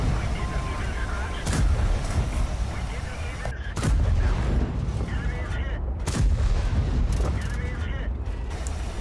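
Heavy tank cannon fire from an E 100 Phönix in the War Thunder video game: several loud booming shots spaced a couple of seconds apart over a dense rumbling battle backdrop, with someone talking.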